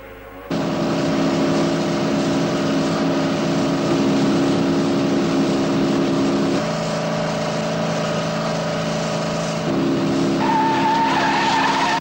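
Two race cars speed side by side in a Thunderbirds puppet series episode, their loud engines roaring steadily with tire squeal and shifting pitch, continuous and close for about twelve seconds.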